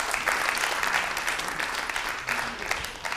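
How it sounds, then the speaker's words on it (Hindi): An audience at a poetry programme claps loudly for a poet, a thick, continuous crowd applause that stays strong from start to finish. "एक बार जोरदार तालियां"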